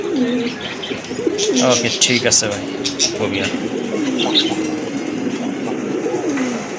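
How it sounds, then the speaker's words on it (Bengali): Fancy pigeons, including large Madrazi and Rajgolla breeds, coo and flutter after being shaken in their cage, their throaty calls and faint chirps repeating under a man's speech amid busy background noise. "এই যে কবুতরগুলো আবার একটু লাড়া দিয়ে দেখাই দিই।"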